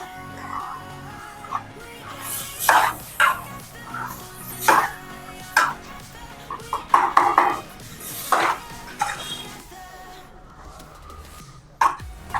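Cooked moong dal is stirred together with radish in a metal pot, giving irregular scraping and clanking knocks of a spoon against the pot, close and fairly loud, with no talking.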